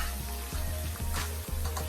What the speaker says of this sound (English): It's frying up. It smells so nice